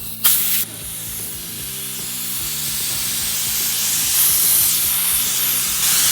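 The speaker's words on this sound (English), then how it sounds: "All right, so got a little leak, you have to excuse the noise." Compressed air hisses continuously from a leaking airline hooked to a spark plug cleaner, a loud, steady broadband spray that begins with a sharp burst and persists over faint low mechanical hum.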